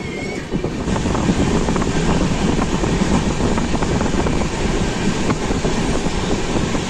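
A Jammu Tawi Express passenger train rumbles along just after pulling out of Kamarkundu station, a loud continuous roar of wheels and carriages with faint rhythmic clatter heard from inside a coach.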